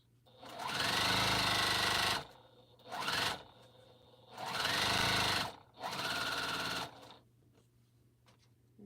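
A sewing machine stitches across an African map quilt in four loud, close bursts of rapid whirring. Each burst lasts one to two seconds, with quiet pauses between them.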